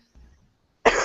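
A single harsh cough from someone with a bad cold, a faint throaty rasp followed by a sudden loud burst that cuts off at the end.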